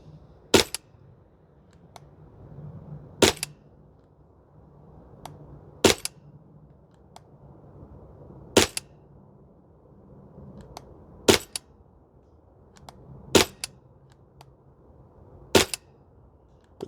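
A Maruyama MP9 airsoft gun fires on an outdoor range in cold weather: seven sharp single snapping shots spaced roughly two and a half seconds apart, close and crisp over a quiet background.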